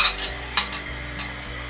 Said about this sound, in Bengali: আমরা এখন দিয়ে দিচ্ছি এই যে কষিয়ে নেওয়া মাথাগুলো।